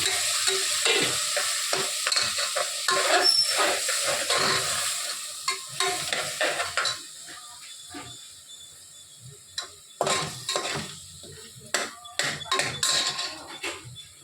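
Tomatoes sizzle in a pan for tomato rice while a spoon stirs and knocks against the metal, loud close scraping strokes that thin out into scattered taps over a fading fry.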